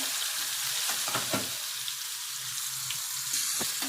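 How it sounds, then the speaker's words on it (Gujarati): Peanuts sizzle with turmeric and mustard seeds in hot oil on a low flame, a steady close frying hiss broken by a few stirring clinks, with no talking. "હવે એને તેલમાં સાતરી લઈશું"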